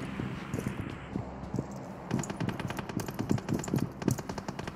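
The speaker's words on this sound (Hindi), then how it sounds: "दूसरी लोगों की फायरिंग सुनाई दे रहा था मुझे" Gunfire in the mobile battle royale game PUBG Mobile during a solo-versus-squad fight, heard as rapid automatic bursts at moderate distance under a low background hum, with no talking.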